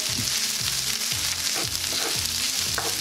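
Rice being stirred into onions in a frying pan for chicken and shrimp fried rice, with a steady close sizzle and repeated scraping strokes of the spoon roughly every half second.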